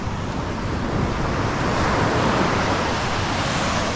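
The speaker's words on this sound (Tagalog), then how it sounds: "Ngayon medyo malilit ang alon mga kalibre." Sea waves roll in continuously along the shore, a steady broadband wash of small surf with some wind noise, filling the whole stretch without voices.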